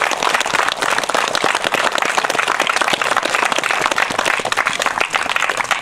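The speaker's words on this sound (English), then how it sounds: "just a big round of applause for all the players that were on show today" Loud, sustained applause from a crowd at a school sports cup presentation, dense rapid clapping from many hands filling the whole stretch with only faint voices beneath.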